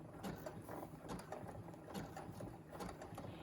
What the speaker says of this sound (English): I like my sewing machine to go slow on the basket making.